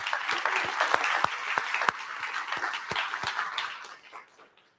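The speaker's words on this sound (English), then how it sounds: "So give yourself a round of applause." Audience at a demo day for a ten-week cohort applauds itself, a broad sustained round of clapping with individual sharp claps, gradually fading away at the close.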